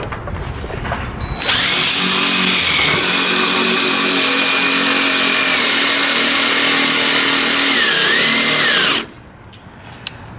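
Power tool driving the lower bolt of an extended school bus stop arm, a loud close whine starting after a second and holding steady for about seven seconds with slight pitch dips, then cutting off abruptly.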